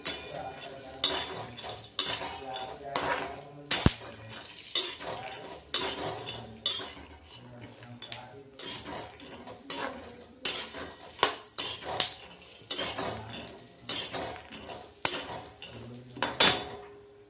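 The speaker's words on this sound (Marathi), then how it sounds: "ते कढईमध्ये टाकून घेतलेले त्यामध्ये आपण एक चमच तूप टाकलेला आहे आता आपल्याला थोडस भाजून घ्यायचे" Almonds roast in ghee in a kadhai, stirred with a metal spoon that scrapes and clinks against the pan in a steady rhythm of close strokes, with a faint sizzle underneath.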